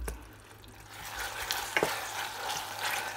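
Red onion confit with cassis cooking in a pan, a close, steady soft sizzle and bubbling with a few brief stirring scrapes in the middle.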